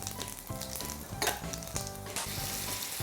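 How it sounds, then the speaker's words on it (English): Coriander seeds, cumin, cloves, peppercorns and bay leaves fry in hot oil for a mutton curry, a dense, continuous close sizzle with crackling pops and occasional stirring scrapes, loud and steady with no talking. "coriander seeds and let them pop away, and cumin seeds, about 6 cloves and 6 peppercorns,"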